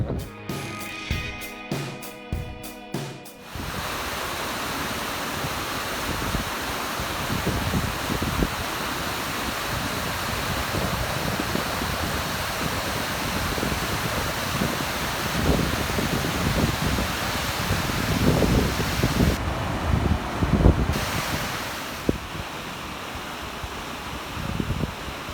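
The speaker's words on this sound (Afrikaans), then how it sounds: "die waterval is verskriklik mooi" A waterfall rushes in a steady, broad roar that runs on for about twenty seconds, preceded by a few seconds of clicking and handling noise, with no talk over it.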